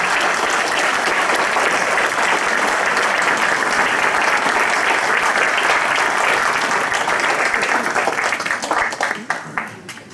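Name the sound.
audience applause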